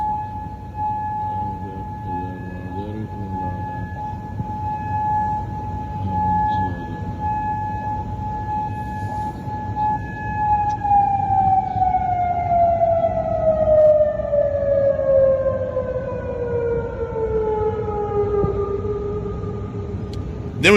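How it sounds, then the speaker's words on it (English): Air defense sirens over Kuwait City hold a long, steady, loud wailing tone that later slides gradually downward in pitch, with faint background noise underneath. "letting us hear the air defense sirens in Kuwait"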